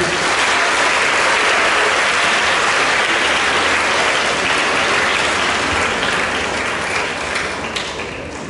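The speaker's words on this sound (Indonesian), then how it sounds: "Mari sekali lagi kita sambut kehadiran kita semua dengan aplaus yang meriah." A large audience at a seminary gathering welcoming a visiting provincial governor bursts into loud, sustained applause, dense clapping filling the room without pause and easing slightly near the end.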